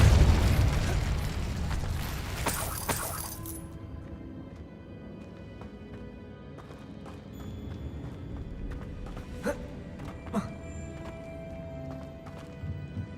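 A Depulso spell in Hogwarts Legacy lands with a loud burst at the start, followed by a sharp crack and a fading rumble, then quieter game ambience with faint clicks and tones.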